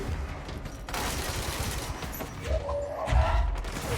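Gunfire from the video game Control bursts in rapid, dense volleys with booming thuds and crashing impacts, loud and continuous across the moment.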